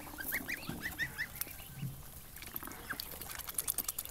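Young farm ducks and growing drakes honk and quack in a rapid, irregular series of calls, moderately close and fairly quiet, with no talking.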